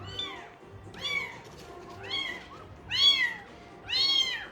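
Young orphaned kittens meowing repeatedly, about five clear rising-and-falling cries spaced roughly a second apart, close and fairly loud with no talking.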